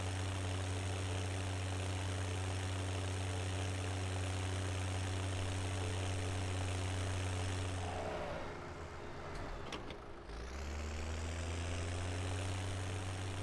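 A Massey Ferguson tractor idles in Farming Simulator 17 with a steady, low, droning engine hum that stays constant, briefly dips and wavers near the end, then settles back to the same even idle.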